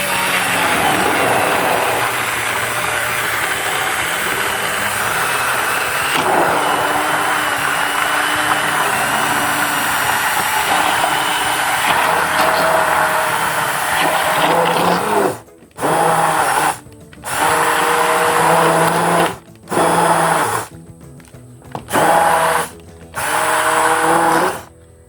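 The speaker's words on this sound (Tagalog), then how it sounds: "Saka na sa i-hand blender guys." A hand blender whirs loudly and steadily through a pot of homemade ketchup, then switches into short on-off bursts near the end.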